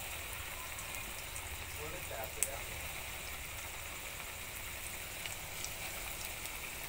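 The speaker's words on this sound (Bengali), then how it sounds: "এখানে আমার তেলটা অনেক গরম হয়ে গেছে, এখানে গরম তেল দিতে হয়। তো আমি এখানে এখন চিকেন ফ্রাইগুলো এক এক করে দিয়ে দিচ্ছি" Pieces of chicken fry drop one by one into very hot oil, giving a steady, close frying hiss and crackle with a faint sharp pop partway through.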